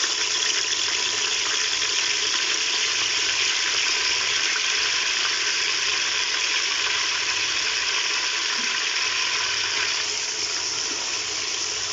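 Ginger paste ground with a little water sizzles in hot ghee for beef nihari, a loud, steady hiss and crackle that continues evenly with no talking.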